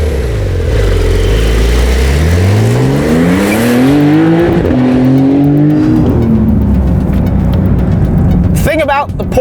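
A 2021 Porsche 911 Turbo S accelerates hard on a race track, its engine note climbing in pitch through several gears with brief dips at the shifts. The roar is loud and close, with tire noise near the end.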